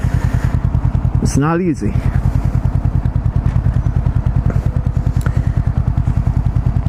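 Honda CBR500R motorcycle engine running with a fast, steady pulsing idle close by, a short rising rev in the middle, while someone talks over it.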